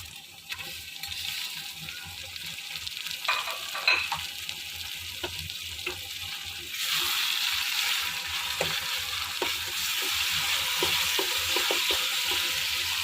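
Two tomatoes fry in a pan with garlic and ginger for a mixed vegetable sabzi. A steady close sizzle runs throughout with scraping stirs, and it grows louder and hissier about halfway through.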